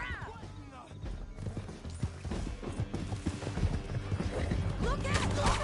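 Horse hooves clop in a rough, continuous gallop during a ride down a canyon in Red Dead Redemption II, mixed with clattering mechanical noise and occasional shouting voices.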